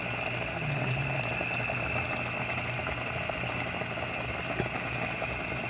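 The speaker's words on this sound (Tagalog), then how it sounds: "pakuluin muna natin" Adobong paksiw na isda, fish stewed with vinegar and a little oil, bubbles in a pot with a steady, dense boiling rumble that holds even throughout, close and continuous with no voices.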